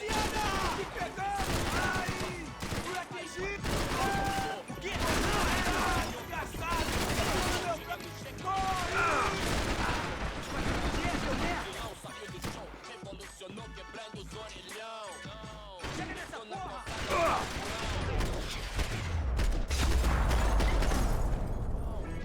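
Rapid gunfire from Max Payne 3 rattles in dense bursts, with loud overlapping shots, rumbling booms and whizzing effects throughout, while voices talk in between.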